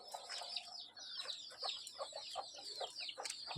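Desi (native) chicks cluck and cheep softly in a rapid, high-pitched chatter at a distance, fairly quiet throughout.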